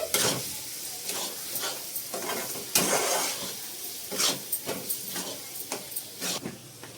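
Chopped onions sizzle in a hot pan while being stirred for a Telugu egg dish. The frying hiss is steady and close, broken by a series of scraping stir strokes that bring repeated louder bursts.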